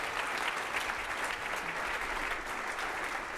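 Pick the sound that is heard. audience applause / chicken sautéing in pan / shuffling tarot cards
audience applause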